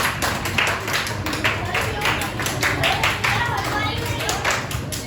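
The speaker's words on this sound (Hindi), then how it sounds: "ताली बजा दो मैंने तो इसके" Children clapping together during a financial literacy session in a classroom, steady rhythmic claps that go on for the whole stretch, with kids' voices mixed in.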